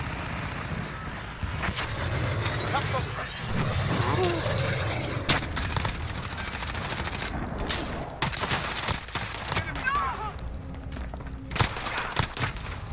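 Pistol gunfire in the video game Modern Warfare, sharp repeated shots cracking over a busy mix of game explosions, rumble and distant aircraft, loud and continuous throughout.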